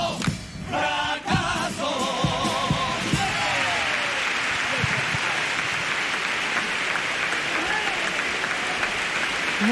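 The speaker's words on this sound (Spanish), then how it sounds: "Muy aplaudida esta letra" A crowd at a Cádiz carnival chirigota performance bursts into dense, sustained applause as a song ends, briefly overlapping the last sung notes and cheers before settling into a loud, continuous roar of clapping.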